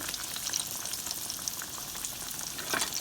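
Green tomato slices frying in hot oil, a constant crackling sizzle with fine popping, close up and steady, with no voices.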